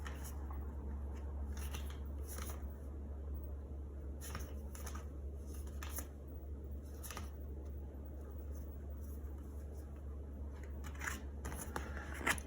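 Tarot cards being handled and glanced through produce faint, scattered papery flicks and slides over a steady low hum, with a few slightly sharper snaps near the end.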